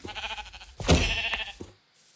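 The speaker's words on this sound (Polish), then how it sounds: "Aha, to owca." A single Minecraft sheep bleat, fairly close and wavering, over a quiet background with a few soft clicks.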